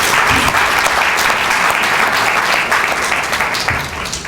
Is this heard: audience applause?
yes